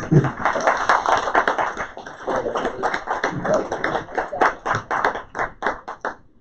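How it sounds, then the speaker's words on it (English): Applause at the ISE 2019 AV News Awards event, uneven clapping from a modest crowd with some distinct, sharp claps near the end, heard alongside the hum of a busy hall and talking. "I think that deserves a round of applause."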